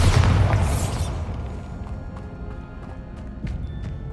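A Bombarda spell goes off in Hogwarts Legacy, a booming blast with a loud low rumble at the start that fades into scattered smaller pops and crackles.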